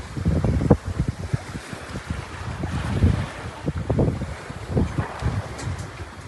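A sailboat underway on the Atlantic between Cape Verde and the Caribbean in a 10-knot wind on a relatively calm sea, with steady wind rush across the microphone and intermittent low water sloshing and hull knocks throughout.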